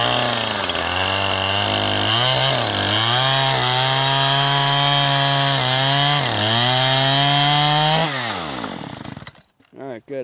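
A chainsaw runs loud and close for about eight seconds, its engine pitch dipping and rising as it bites into wood, then cuts off and winds down into near silence.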